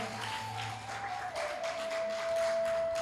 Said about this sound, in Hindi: जिसको भक्त बनना है वो ताली बजाएगा।